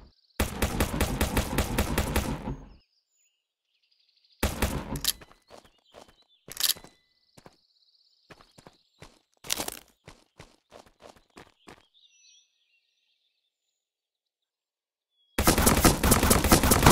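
Gunfire in the mobile video game Rocket Royale: loud, rapid automatic bursts, then scattered single shots and short volleys separated by silence, and a final sustained burst at the end.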